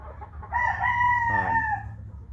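A Sweater breed rooster crows once up close, a loud, clear cock-a-doodle-doo lasting over a second over a low rumbling background.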